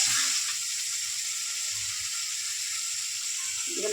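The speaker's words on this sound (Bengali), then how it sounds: "জল দিয়ে দেবো" Spice paste frying in oil hisses loudly as water is poured in, a steady close sizzle with bubbling steam that holds at even strength throughout, no voices.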